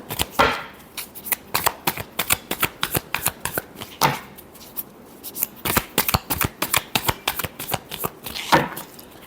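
Tarot cards are shuffled by hand in repeated quick riffles, each burst a crisp papery flutter, close and loud, with brief pauses between bursts and no talking.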